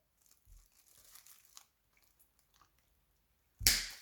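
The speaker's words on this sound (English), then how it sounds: "So I'm gonna cut it from both sides." Snipping through a plastic security tag, heard as faint small clicks and rustles before one loud, sharp crunching snap near the end.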